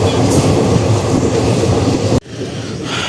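Garudadri Express running on rails with a loud, dense rumble and clatter that cuts off abruptly near the end into a quieter hum.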